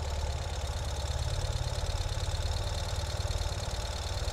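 The engine of a 2021 Ural Gear Up sidecar motorcycle chugs steadily at low revs as it rolls in reverse, a close, even, throbbing pulse with a mechanical hum and no speech.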